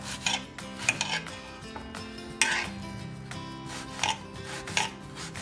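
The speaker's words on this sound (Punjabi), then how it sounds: "ਸਭ ਤੋਂ ਪਹਿਲਾਂ ਆਪਾਂ ਪਿਆਜ਼ ਇਹਨਾਂ ਸਾਰੀਆਂ ਚੀਜ਼ਾਂ ਨੂੰ ਆਪਾਂ ਕੱਟ ਕੇ ਇਹਨਾਂ ਨੂੰ ਬਰੀਕ ਕਰਾਂਗੇ" Onions being chopped with a knife for Punjabi chole, with repeated sharp blade strikes on a board and clinking utensil sounds in an ongoing kitchen setting, no talking.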